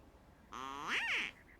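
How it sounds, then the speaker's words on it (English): A duck quack call in the video game Secret Files 2: a single drawn-out, nasal quack with a rising then falling pitch, close and fairly loud against a quiet background. "It's a duck quack call, whatever."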